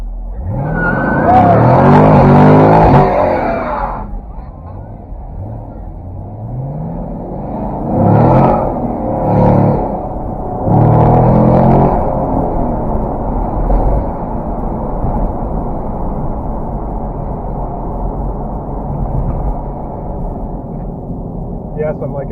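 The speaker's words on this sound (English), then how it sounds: "I cannot do a cruiser without smoking tires. So, there's my one and only burnout for the day." A car at a charity cruise event revs hard in a loud burnout with smoking tires, engine roaring up front, followed by several shorter revving bursts and a steady idle rumble, with people talking nearby.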